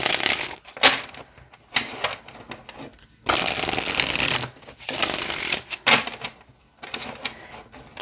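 A small tarot deck is shuffled repeatedly up close, with several bursts of papery card riffling and rustling separated by short pauses.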